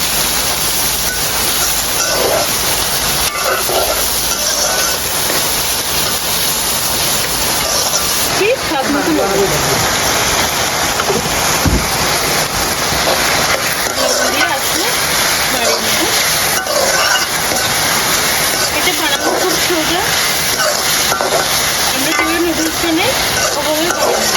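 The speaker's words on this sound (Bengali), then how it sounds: "দিয়েছি টমেটো কাঁচামরিচ কুচি সব একসাথে দিয়ে খুব সুন্দর করে ভেজে দেবো" Tomatoes and chopped green chillies frying in a pan, a steady dense sizzle that runs loud and continuous throughout with a few brief clinks and scrapes mixed in.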